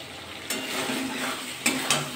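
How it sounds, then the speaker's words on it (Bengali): Chickpeas and paneer being sautéed with spices in a pan, a continuous close sizzle broken by a few loud scraping strokes of a spoon against the pan. "একটু মশলার সাথে কষিয়ে নেব। ভালো করে কষিয়ে নিই"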